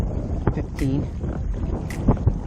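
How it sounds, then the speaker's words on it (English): Steady wind roars across the microphone while a NuCanoe Pursuit is pedaled into a 10 to 15 mph breeze, with water slapping and knocking against the hull and someone talking over the gusty noise. "I told you the wind was going to come up today, and it's blowing probably a steady"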